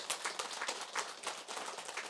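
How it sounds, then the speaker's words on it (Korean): An audience at a Buddhist dharma talk claps in a steady burst of applause filling the hall, with little else heard. "오늘 박수를 많이 받네."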